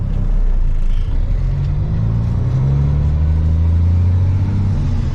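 A truck engine drones steadily while driving on a farm road, a loud continuous low rumble with the pitch rising slowly as it accelerates.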